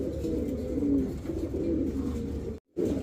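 Pigeons at a pigeon farm coo continuously in low, throaty, overlapping calls, close and fairly loud, with a brief silent gap near the end before the cooing resumes.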